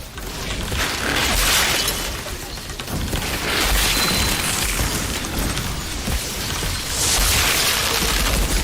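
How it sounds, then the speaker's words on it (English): Repeated explosions and shattering crashes from combat in the Outriders video game, rising and falling in loud bursts over several seconds against constant background noise, with a voice faintly beneath. "Explosions all the time."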